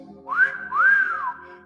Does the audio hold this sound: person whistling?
yes